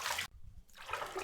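Water in a bubble bath, a soft close splash and trickle, then a brief hush before more gentle sloshing and dripping, faint and intimate with no voice.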